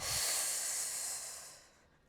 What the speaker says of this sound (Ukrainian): Знову вдих через ніс, видих вниз.